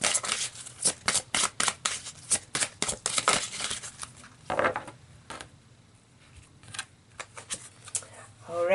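A deck of tarot cards is shuffled rapidly, then cards are drawn, producing quick crisp riffling flaps in a dense burst, a pause, and then sparser soft card snaps, close and dry, with a voice speaking faintly at times.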